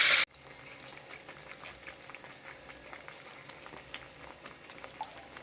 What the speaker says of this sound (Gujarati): ટામેટાનું મિશ્રણ એડ કરીશું